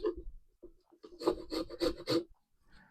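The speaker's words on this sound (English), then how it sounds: "Let's create some zest." Orange peels are zested by hand, producing a handful of short, close, raspy scraping strokes in quick succession, separated by brief pauses.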